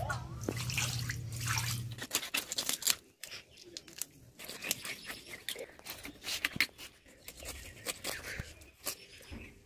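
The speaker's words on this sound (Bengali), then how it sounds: "এইভাবে জল পাল্টে পাল্টে 6 থেকে 7 বার ভালো করে ধুয়ে নেব" Pieces of silver carp are washed by hand in a bowl of water, with irregular splashes, drips and wet rubbing and crunching handling sounds, close and fairly quiet.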